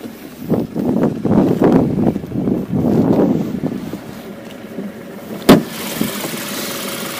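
A 2011 BMW F10 528i xDrive with a 2.0-litre turbo engine idles close by under the open hood, a steady low rumble with wind buffeting the microphone, then a sharp knock near the end.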